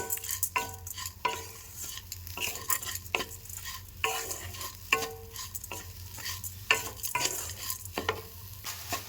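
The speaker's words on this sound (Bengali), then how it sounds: "ছানার সাথে চিনিটা দিয়ে নাড়তে নাড়তে চিনিটা গলতে থাকছে" Chhana and sugar stirred in a pan over a high gas flame, a spoon scraping in a steady uneven rhythm with light sizzling underneath, close and alone with no voices.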